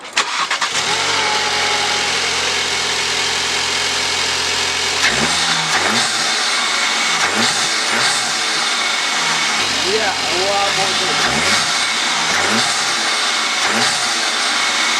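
A Volkswagen Golf MK7 1.8 TSI engine with an aftermarket carbon fiber air intake fires up and idles loudly close by, then revs repeatedly in sharp bursts with a throaty, rising growl.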